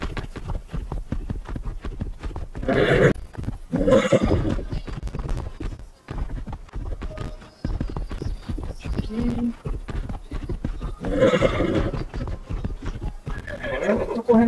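Horse whinnies and clip-clopping hooves in the survival video game Projeto Evo, several loud neighs rising over steady hoofbeats, with someone talking over the game sounds.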